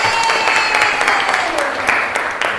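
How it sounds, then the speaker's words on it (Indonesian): Audience applause after group presentations at a teacher training session: dense, steady clapping that fills the room at close range, with faint voices mixed in. "Tepuk tangan untuk kita semua"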